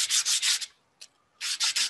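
A wooden segment is sanded by hand with quick back-and-forth swipes, three rough rasping strokes, a pause with one short scrape, then three more strokes, close and clear with no talking.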